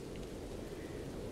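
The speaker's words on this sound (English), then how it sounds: "I know that it's raining" Rain falling with thunder, a dense and steady rumbling downpour that fills the short stretch evenly and holds at a constant level.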